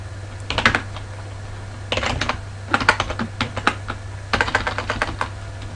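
Typing on a computer keyboard in short irregular bursts of close, crisp key clicks over a low steady hum, with no talking.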